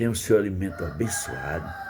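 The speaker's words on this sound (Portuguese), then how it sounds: "eu estou aqui falando de Deus e ouvindo um galo cantando lá do outro lado." A rooster crows somewhere off in the distance, its long call rising and then falling away. Someone speaks Portuguese over it in the foreground.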